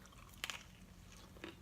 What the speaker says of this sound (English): Oh, a little crunch.